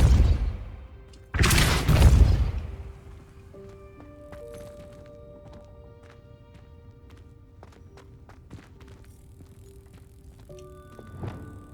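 A Depulso spell cast in the video game Hogwarts Legacy makes a loud, roughly one-second whooshing blast, followed by quiet game ambience with scattered faint clicks and soft tones.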